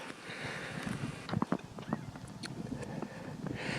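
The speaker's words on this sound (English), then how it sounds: "That's a burro." Burro hooves clip-clopping along the dirt main street of a ranching ghost town in Belmont, Nevada, a few fairly close irregular steps over a steady outdoor background hiss.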